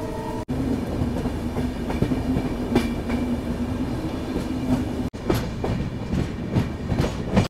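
A train bound from Kolkata toward Kalimpong rolls along steadily with loud clickety-clack of wheels on rail joints, a continuous rumble with a low hum, interrupted by two brief breaks.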